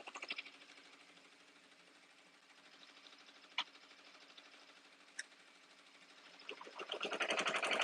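An embroidery machine starts stitching an appliqué design. A low, fast rhythmic needle chatter runs steadily with a couple of sharp clicks, then it grows louder and busier toward the end.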